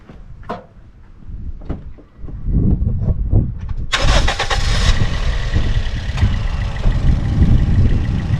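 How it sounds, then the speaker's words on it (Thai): A 2013 Toyota Yaris automatic engine cranks and catches, then settles into a loud, steady idle rumble, preceded by a few clicks and knocks. "ฟังเสียงเครื่องยนต์นะครับเดี๋ยวสตาร์ทให้ดู"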